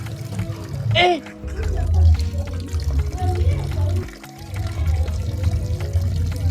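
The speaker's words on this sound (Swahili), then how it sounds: "nimekojoa maji ya kuosha vyombo." A person urinates into a bucket, making a steady, close pouring stream with a brief break in the middle.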